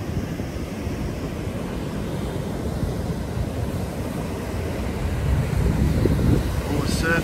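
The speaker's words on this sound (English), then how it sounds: "You can hear the ocean. It's raining." Ocean surf and rain on a windy seaside shore form a dense, steady rushing roar that swells slightly louder toward the end, with wind buffeting the microphone throughout.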